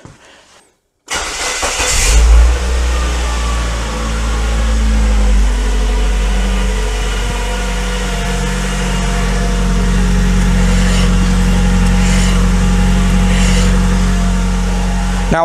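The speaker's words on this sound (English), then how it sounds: "I'm going to start the engine and wait and then check it." A Mazda 626 engine cranks and catches after a second of silence, briefly revs, then settles into a steady, loud idle that runs on for the rest of the clip.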